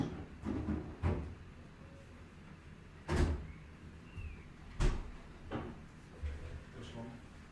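A door is shut indoors, sharp knocks and thuds at intervals amid faint background activity and a voice.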